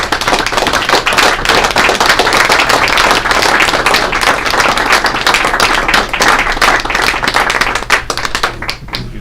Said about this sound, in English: I would like to have a round of applause and thank Tony for 21 years of service